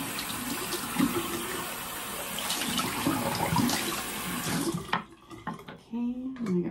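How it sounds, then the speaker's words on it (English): Tap water runs steadily into a sink while a dish is rinsed under it, a close continuous splashing that cuts out near the end, leaving brief clatter and a voice. "We're gonna wash this dish out."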